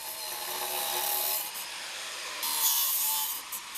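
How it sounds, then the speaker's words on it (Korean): Cement foundation stones being dressed for a glamping camping house, a continuous abrasive grinding rasp that swells and fades in two long passes, close and steady with no talk. "시멘트로 만든 주춧돌을 다듬기 시작한다."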